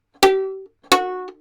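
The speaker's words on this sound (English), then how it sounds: "Bartók pizzicato is a very strong pizzicato where the string is plucked so hard that it rebounds" Two hard Bartók pizzicato plucks on a violin, the string snapping back against the fingerboard, each with a sharp percussive crack at the attack followed by a short, ringing decay, spaced under a second apart.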